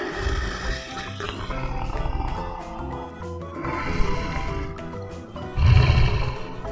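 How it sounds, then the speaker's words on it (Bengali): A cheetah roar: loud, rough growling roars come in bursts, with the deepest one near the end, set over a background music track. "চতে চিতাবাঘ চিতাবাঘে সরু খ্যাত"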